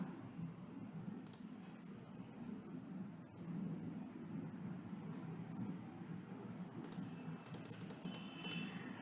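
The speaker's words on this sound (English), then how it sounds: "so I will write my password" A password is typed on a computer keyboard, with soft, quick key clicks in short bursts over a low background hum, faint and close, with no talking.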